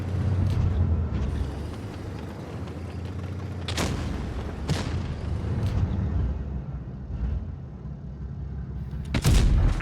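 Heavy tank cannon blasts in a tank video game boom out a few times at uneven intervals over a continuous low rumbling background, loud and close.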